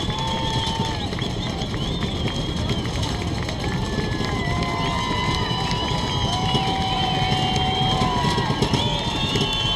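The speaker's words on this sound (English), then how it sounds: "Home crowd now picking up the noise." A home crowd at a Windsor HS vs Monarch HS high school football game keeps up a continuous, loud roar of cheering and noise, steady and unbroken, with faint tonal sounds above it.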